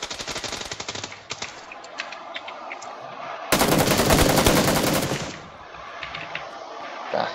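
Rapid bursts of automatic gunfire in a battle royale video game. Clattering volleys run throughout, with one louder, denser sustained burst in the middle, and no voices.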